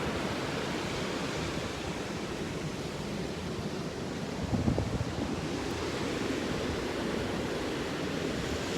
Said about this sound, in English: as I'm watching the ocean waves crash in.